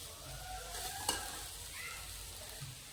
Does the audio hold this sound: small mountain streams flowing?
no